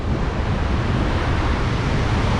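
Ocean surf breaks and rushes along an Australian shore where someone is fishing, a loud continuous wash of waves mixed with wind noise.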